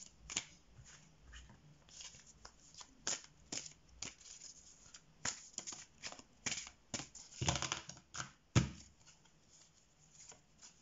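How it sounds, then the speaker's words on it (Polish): A deck of cards shuffled by hand during a horoscope card reading, with steady rapid riffling and slapping, close and fairly loud, with several sharper bursts of shuffling. "Patrzcie, tasowałam przy was."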